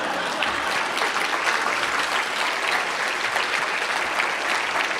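A large audience claps steadily and loudly, a thick, unbroken roar of applause with no voices standing out.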